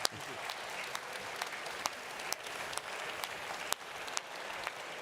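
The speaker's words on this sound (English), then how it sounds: "Applause, applause," An audience applauds at the Swiss Coffee Festival: steady, fairly soft clapping from a crowd, with sharp individual claps popping out above the continuous patter throughout.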